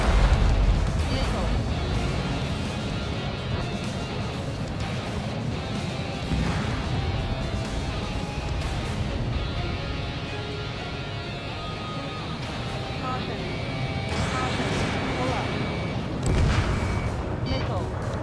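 Missile launches and explosions from the Ace Combat 7 flight combat game form a dense, continuous roar of jet noise and blasts, with radio voices talking over the action.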